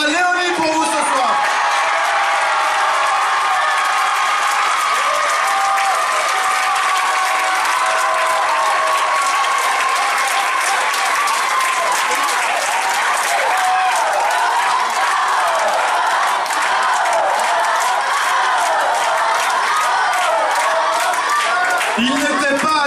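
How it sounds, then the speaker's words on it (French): A crowd applauds the winners at a battle event, with loud, sustained clapping and cheering that fills the room and carries on throughout. "Je vous demande tout d'abord d'applaudir les grands gagnants de la soirée"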